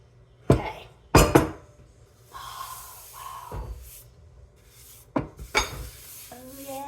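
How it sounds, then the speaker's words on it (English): Kitchen utensil work on a mixing bowl while making homemade biscuits: a few sharp clanks and knocks against the bowl, separated by softer scraping and rustling, close by and without talk. "Now I'm gonna take it out. Scrape my bowl."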